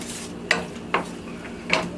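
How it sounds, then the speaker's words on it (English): A spoon stirs a wine pan sauce for pork chops, scraping the pan three times in a slow rhythm over a low, soft sizzle, close and moderately loud. "we are going to give it a stir"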